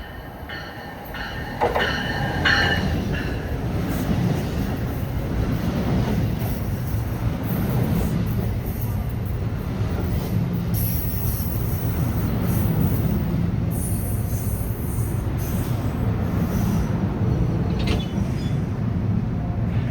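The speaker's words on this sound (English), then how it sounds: "Number 3847 southbound to Trenton, local train from New York." An NJ Transit local train, number 3847, passes southbound with a multi-level cab car leading, a loud steady rumble of wheels and cars rolling by close for the whole stretch, with a brief brighter screech near the start.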